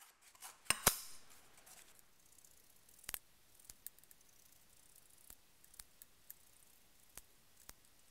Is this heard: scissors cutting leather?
yes